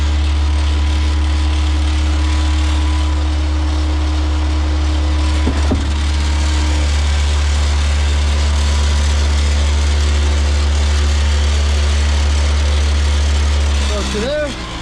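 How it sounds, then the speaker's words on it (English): A concrete pump engine running steadily while pumping concrete for a hillside swimming pool deck, a loud continuous low drone with a faint knock partway through and a brief shift near the end. "I'm going to pump this down a few strokes"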